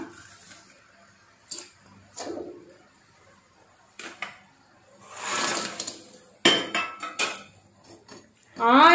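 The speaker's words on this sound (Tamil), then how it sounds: "இப்போ வந்து நம்ம பொறிச்சு வச்ச பிரெட்டெல்லாம் அதில் போட்டுடலாம்" Fried bread pieces for bread halva tipped into dissolved sugar syrup in a pan, giving scattered clinks, scrapes and short bursts of utensil-on-pan clatter with quiet gaps between.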